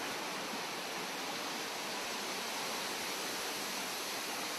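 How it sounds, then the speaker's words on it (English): Constant broadband rush of a waterfall in the North Ossetian Nature Reserve, steady and even throughout, with no other sounds standing out. "This waterfall is called the Ring."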